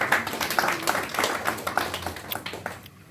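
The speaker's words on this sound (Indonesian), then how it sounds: "Tepuk tangan dong." A congregation claps hands during a church sermon, a dense, ragged patter of many palms that holds steady for a few seconds and then breaks off abruptly into near silence.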